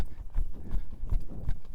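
Hooves of a young colt trotting at a steady, even pace, a repeated near clip-clop rhythm with soft thuds and a little background noise, no talk.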